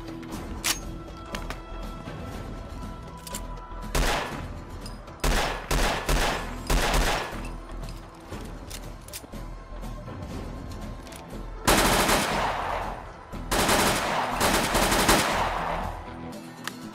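Fallout 4 firefight with 5.56 caliber weapons, a light machine gun and rifle, delivering sharp single shots and clustered bursts of automatic fire, with a longer sustained burst near the end, no voices.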